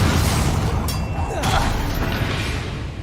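Confringo blasting spell in Hogwarts Legacy, a loud close booming burst with a whooshing crack layered over a constant dense background of game noise.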